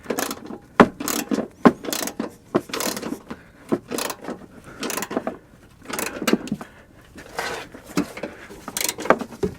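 A ratchet drives a thread-cutting screw into a GM single-exhaust muffler strap and bracket, heard as loud, close bursts of rapid clicking broken by brief pauses across the whole stretch, with no talking.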